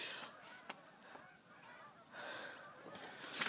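Geese honk outside in the snow, a few faint distant calls repeating irregularly through light background noise.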